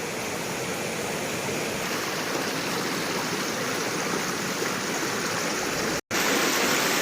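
A small forest stream flows steadily, a constant close rushing and gurgling of water with no voices.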